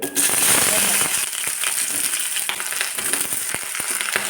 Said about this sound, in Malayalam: ഇനി നമുക്ക് ആദ്യം വെണ്ടയ്ക്കും സവാളയും ഒന്ന് വഴറ്റിയെടുക്കണം ചീൻചട്ടിയിലേക്ക് എണ്ണ ഒഴിച്ചു കൊടുത്തു